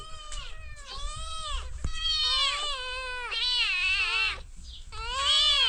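Several cats meow loudly and repeatedly, overlapping drawn-out cries close by, with brief gaps between calls.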